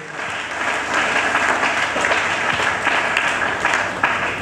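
Church congregation applauding after a call to acclaim the word of God, a steady dense wash of clapping hands that holds for several seconds at even loudness, with no voices over it.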